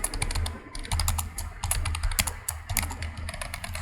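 Rapid typing on a computer keyboard, a steady run of close, crisp key clicks with brief pauses, heard alone without talk.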